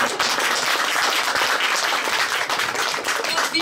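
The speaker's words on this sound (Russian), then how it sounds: "Есть, хлопают тебе уже." Audience applause at a concert of songs, many hands clapping in a dense, lively stream with individual claps audible, steady and fairly close.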